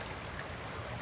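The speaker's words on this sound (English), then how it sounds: "Closer to the water, see if we can pick up the sound of it a little bit better. Has a nice trickle." A small stream trickles steadily close by in the woods, its broadband wash soft and continuous with no voices over it.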